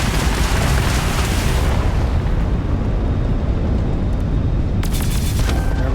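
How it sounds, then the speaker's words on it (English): Missiles fired from a ship in Starfield, a loud, roaring rush of blasts that fills the whole stretch, thinning into rumble before sharp crackling bursts near the end. "So I'm just shooting missiles blindly."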